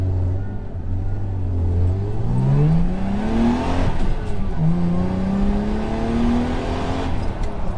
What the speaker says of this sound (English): This exhaust, it's so un-Jag-like though